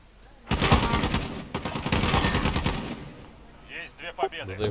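Rapid automatic gunfire in Call of Duty Modern Warfare, two loud bursts of rattling shots in quick succession, close and dominant, followed by softer game effects and a short burst of talk.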